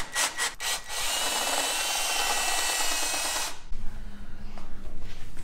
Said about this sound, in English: Nothing like drilling on a brand new engine.